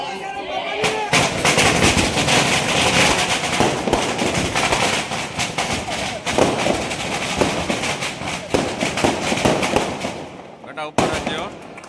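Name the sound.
firecrackers being set off outdoors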